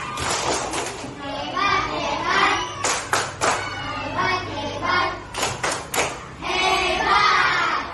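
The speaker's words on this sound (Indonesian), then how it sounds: "Kasih dia tepuk hebat." A group of children in a classroom performs a rhythmic cheer clap, with short bursts of sharp, close hand claps mixed into lively, overlapping young voices.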